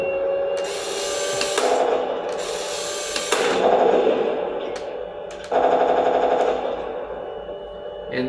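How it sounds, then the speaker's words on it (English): A Heng Long Stug III toy tank's electronic M1 turbine engine sound effect hums steadily, broken by several loud rattling bursts from a small speaker. "it will change to the next sound, which is the M1 turbine sound"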